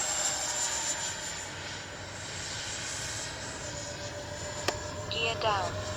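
A twin 64mm electric ducted fan MiG-29 model jet from Arrows RC hums steadily in flight at around three-quarter throttle, a constant whine with a faint click near the end. No one speaks.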